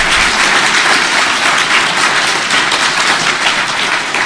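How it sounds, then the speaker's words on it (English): An audience at Calgary Expo 2014 applauds panel guests of the Summoner School strategy session, a loud, even wash of many clapping hands sustained throughout. "a big round of applause for these gentlemen"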